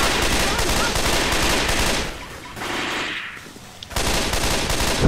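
Close-range gunfire in the video game Left 4 Dead 2, dense rapid bursts of shots that break off briefly mid-way and resume loudly at the end.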